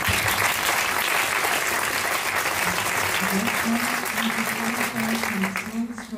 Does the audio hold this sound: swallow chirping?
no